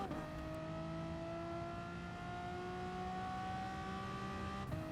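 A Renault Sport Mégane race car in Gran Turismo Sport holds a steady, droning engine note that climbs slowly in pitch as it gently accelerates out of a corner, continuous and close throughout.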